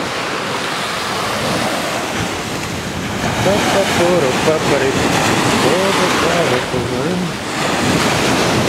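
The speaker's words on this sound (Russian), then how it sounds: "Такие агрессивные волны сегодня." Loud, rough sea waves crash and churn continuously on the beach at Jomtien, Thailand, with gusting wind across the microphone, while a voice talks over the roar.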